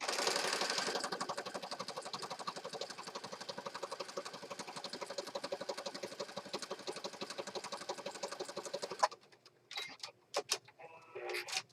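A sewing machine stitches down the side of an accordion-fold journal in a fast, steady mechanical rattle that stops abruptly near the end, leaving a few handling knocks.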